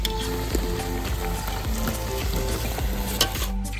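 Chicken and potatoes fry in a pan for chicken kosha, giving off a steady, dense sizzle with occasional stirring scrapes. The sound is loud, close and continuous, with no speech.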